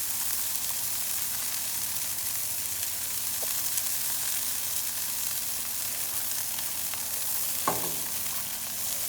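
Smashburgers fry in bacon grease on a Blackstone griddle with a steady, even sizzle throughout, broken by a brief louder crackle or scrape near the end.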